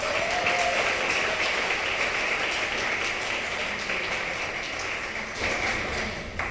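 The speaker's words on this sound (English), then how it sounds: "Another round of applause for our board." An audience at the MPI Orlando Ignite 2021 event applauds the board members with loud, sustained clapping that stays even throughout and eases slightly at the end.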